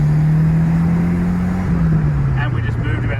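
An air-cooled Porsche 911 Turbo pulls away in second gear, its engine droning low and steady close by before the pitch dips, with a voice briefly talking near the end.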